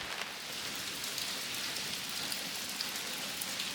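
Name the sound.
rain falling on a cabin roof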